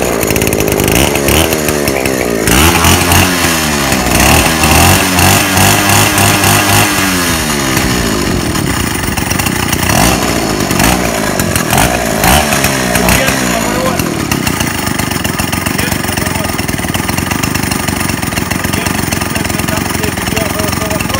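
Druzhba chainsaw engine started and left running, loud and close: sputtering attempts give way to a steady two-stroke roar that revs and settles, with people talking underneath.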